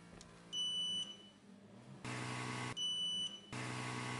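Two short high electronic beeps from a Creality Falcon 10W Pro laser engraver, each about half a second, separated by a pause of a couple of seconds over a steady hum.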